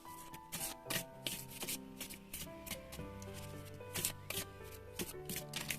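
Oracle and tarot cards shuffled by hand nearby, a continuous run of quick riffling flutters and soft slaps with a gentle, irregular rhythm, faint music sitting underneath.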